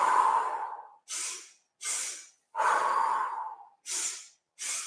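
Deep breaths during a beginner Pilates exercise on a step barrel: slow, alternating inhales and exhales, six close breaths with short pauses between, each a clear airy rush, no talk.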